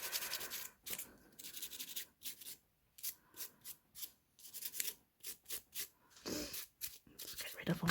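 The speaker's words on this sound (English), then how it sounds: "Let's just give these a good rub with the dusty brush, and I'll do the undersides as well." A dusty brush rubs over freshly filed nails during a citrine-themed November birthstone manicure, giving close, repeated short scratchy strokes in quick bursts with brief pauses between them.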